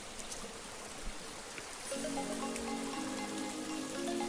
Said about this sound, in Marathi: ह्या ठिकाणावरून पाणी सुरुवात होते हे बघू शकता तिथून सगळे झरे आहेत